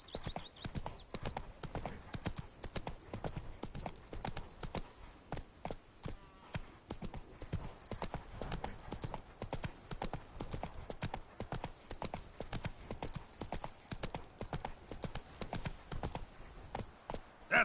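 Roach, a horse in The Witcher 3 video game, gallops in a steady drumming clip-clop of hooves that continues throughout, close and moderately loud, with brief faint background sounds.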